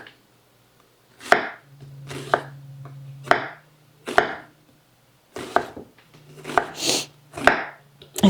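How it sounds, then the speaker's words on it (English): A knife slices an onion thin on a cutting board, about nine crisp, separate chops spaced unevenly with short pauses, close and fairly loud with no talking. "Now this I'm just going to slice thin because I'm going to use it on with our sandwiches"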